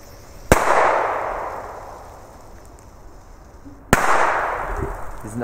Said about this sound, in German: Jetzt die normalen D-Böller.